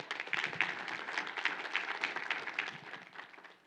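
An audience at a regional professional conference applauds for a few seconds, a steady dense wash of many hands clapping, moderately distant, fading slightly at the end.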